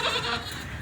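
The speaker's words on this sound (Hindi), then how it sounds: "रो रहा है यार बेचारा, छोटा से उसको बकरे को पट्टा लगा रहे हैं अभी" A very small young goat kid bleating while a collar is fitted at a zoo, a short wavering cry, fairly close and clear with no speech.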